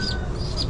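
A large bird that has just been caught, a chicken-like fowl giving faint clucks and a few brief high calls over steady low rumbling background noise.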